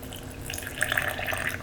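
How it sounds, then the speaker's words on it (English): A little water pours into a blender holding thick strawberry sorbet, heard as a soft, close trickle with light dripping over a quiet background. "So I'm going to add just a skosh more water"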